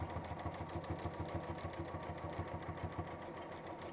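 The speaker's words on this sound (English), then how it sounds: "So stitch down that centre line." A sewing machine stitches steadily down a centre line of fabric, its rapid, even needle rhythm running continuously and close without pause.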